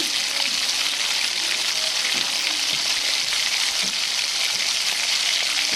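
Soya chunks sauté in a pan with onion, tomato and spices, giving a continuous, even sizzle and crackle with occasional stirring scrapes, close by and steady throughout.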